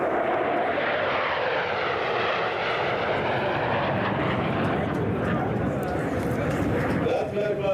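Military aircraft sweeping past low in starboard echelon formation at an anniversary parade, a loud, broad engine roar that holds steady throughout, with a commentator speaking over it.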